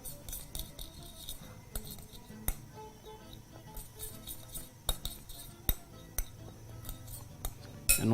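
A spoon clinks and scrapes against a bowl while dry spices, cayenne and oregano, are mixed, giving a steady run of close, irregular metallic taps.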